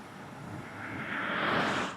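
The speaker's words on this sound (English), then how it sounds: "listening to the cars to go by" Traffic swells past near the Hudson River bridge in New York, a broad rushing whoosh that builds and fades as a vehicle passes, with no voices.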